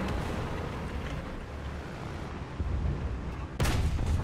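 Tank destroyed by gunfire in War Thunder, a steady rumbling battle din under distant booms, ending with a heavy close explosive blast that stays loud.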